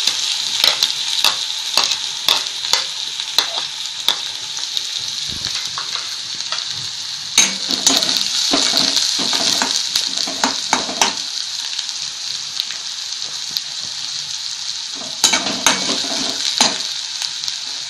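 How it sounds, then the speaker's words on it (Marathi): Onion fries in a pan over medium heat for a Marathi aluvadi dish, with a bright continuous sizzle and repeated close spatula stirs and scrapes, no talking. "गॅस मध्यम ठेवून कांदा जरा भाजून द्यायचा"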